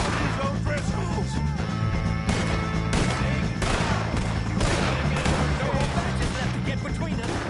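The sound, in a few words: gunfire in Red Dead Redemption 2 video game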